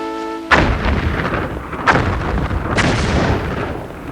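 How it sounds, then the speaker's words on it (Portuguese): Explosions shake Oak Island: three heavy booms, one at the start and two more spaced a second apart, each rumbling loudly into a long, churning decay. "Explosões sacudiram a ilha, fazendo com que a água do fosso se agitasse e borbulhasse"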